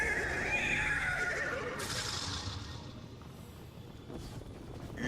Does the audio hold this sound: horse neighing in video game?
yes